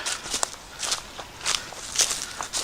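Footsteps crunch along a forest trail heading downhill, a steady walking rhythm of roughly one step every half second, close and moderately loud, with no voices.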